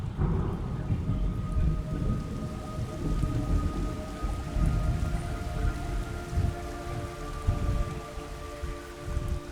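Video game rain and thunder in Metal Gear Solid Delta: Snake Eater: steady heavy rain pours down while low thunder rumbles continuously underneath, with a faint droning tone running through the storm.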